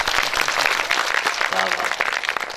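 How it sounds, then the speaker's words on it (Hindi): A gathered crowd at a Hindi spiritual satsang session claps loudly and continuously, a thick broadband clatter with voices mixed in underneath. "तो एक बार जोरदार ताली"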